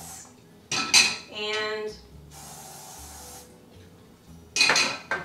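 Two small preheated skillets handled on a stove, with clanking metal knocks, a scrape, and a hissing spray burst between them, close and fairly loud, with a brief spoken word.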